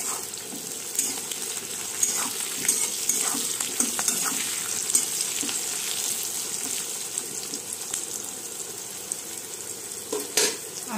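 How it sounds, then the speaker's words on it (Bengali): Potatoes with a green chili fry in a pan until reddish, giving a continuous soft sizzle with a few stirring scrapes, fairly quiet and without speech. "আলুটা একটু লাল করে ভেজে নেব,"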